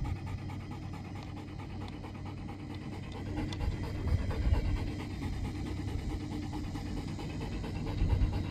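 A dog pants steadily and rapidly at close range, a continuous rhythmic breathing under a low background hum, with no talking.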